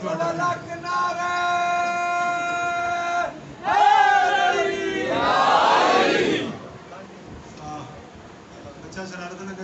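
At a Muharram majlis, a large congregation raises loud religious chants in unison, a sustained tonal call answered by a swelling roar of many voices, with a speaker's voice over the gathering.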